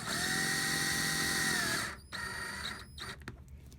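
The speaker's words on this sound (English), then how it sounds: "I've got my drill gun" A cordless drill whines steadily at close range as it drives a screw into a plastic hip clip with a magnet, then stops abruptly. A few short bursts and clicks follow.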